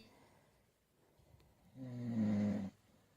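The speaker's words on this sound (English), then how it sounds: "We all have videos of you snoring." A man snores once, loudly, in a recorded clip. The single rasping breath lasts under a second and comes after a quiet stretch of faint background noise.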